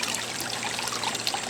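The waterfall pump of a backyard turtle pond sends water trickling and splashing steadily, a close, continuous babble of falling water.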